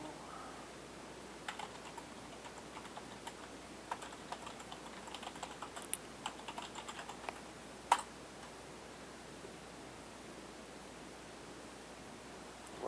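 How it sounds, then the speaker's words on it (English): A sudo command is typed on a computer keyboard while setting up a Samba file server on an Orange Pi, with quiet, irregular key clicks close by over a low hiss and a sharper tap near the end. "So we're going to type in sudo"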